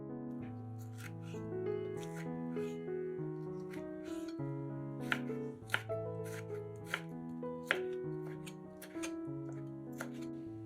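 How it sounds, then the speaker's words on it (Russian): A kitchen knife chops a medium tomato, first into slices and then into small cubes; quick rhythmic taps on a cutting board sound under steady background music. "1 помидор среднего размера нарезаем сначала пластинками,"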